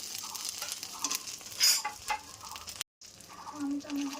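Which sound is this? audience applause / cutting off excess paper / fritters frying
fritters frying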